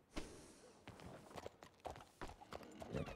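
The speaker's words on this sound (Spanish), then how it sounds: "En un momento que saque el caballo." Horse hooves clip-clop in a roleplay video game as a horse is brought out, a few uneven footfalls over a soft background with faint game ambience.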